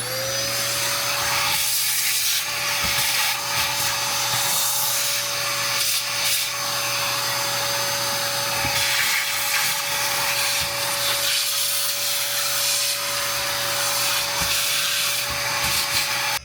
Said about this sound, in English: I'll get the vacuum.